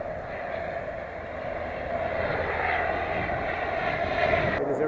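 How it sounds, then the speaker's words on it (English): A fixed-wing airplane passing over Reykjavik, Iceland at night produces a steady, fairly loud engine drone that holds evenly and swells slightly toward the end, with no talk. "Oh, airplane flying over."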